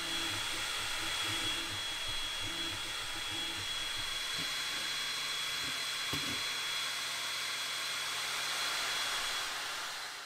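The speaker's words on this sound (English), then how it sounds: "I engraved this image on the other side of the plate using different speeds and power to gain different colors" A 22W laser engraver works an image into a steel plate, producing a steady, close hiss of fans and airflow with faint rhythmic stepping buzzes underneath, continuous throughout and free of speech.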